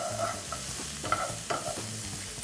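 About two cloves of garlic sauté with shrimp in a pan for spicy Asian shrimp. A quiet, even sizzle is broken by soft, repeated stirring strokes, with no speech.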